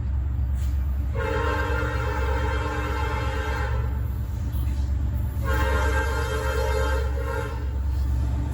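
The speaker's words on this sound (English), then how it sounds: "CSX Local L345, a weekly local job out of Marion, Ohio to Fostoria, Ohio, is working the NS Mixing Center" A CSX weekly local freight train works the NS Mixing Center in Fostoria, Ohio, over a steady low engine rumble. Two long, loud blasts of its horn sound close by, the second after a short gap.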